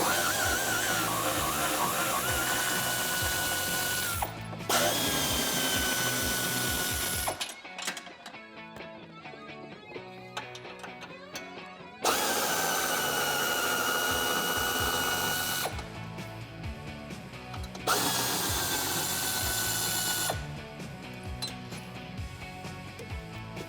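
A power tool removes the front bumper nuts on a Jeep Wrangler JK, loud whirring and ratcheting bursts that alternate with quieter, clattering pauses between nuts, close and alone without talk.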